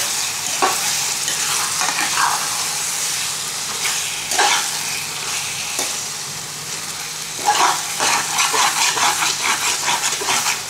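Prawns and tomatoes sautéing in a pan for prawn thokku, a steady sizzle broken by repeated scraping strokes of a spatula that come in bursts, louder toward the end.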